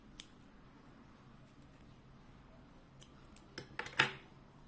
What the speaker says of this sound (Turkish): Sonrasında buradaki ipimizi bir kez daha düğüm atıp şöyle kesiyorum.